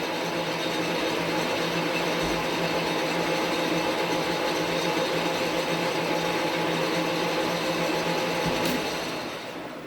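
A metal lathe turns a shoulder on a hammer workpiece with a steady, even mechanical whir and hum. The cut continues unbroken for the full stretch, then eases slightly at the end.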